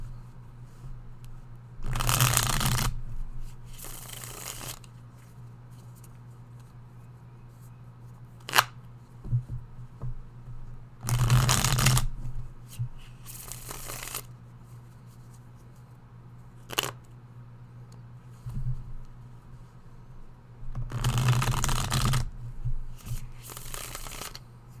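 A deck of cards is shuffled in several short bursts of riffling, each lasting about a second, with gentle taps and pauses between them over a low steady hum.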